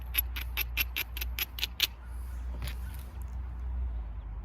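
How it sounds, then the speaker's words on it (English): A flint edge is ground with rapid, evenly spaced scraping strokes, about eight quick rasps in a row, then a couple of slower scrapes before fading to a low background hum; close and fairly quiet. "Just grind it so you can see what you're doing, and to make those platforms a little stronger so they don't crush."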